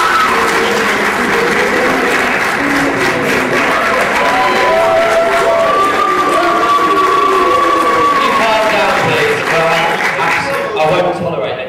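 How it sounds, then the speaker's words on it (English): A student union meeting audience clapping loudly in sustained applause, with mixed crowd noise, jeering and voices running underneath throughout before it tapers off at the end. "Thank you for all those that clapped, and thank you for all those that booed."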